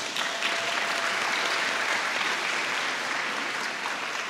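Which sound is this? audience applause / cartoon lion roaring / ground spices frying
audience applause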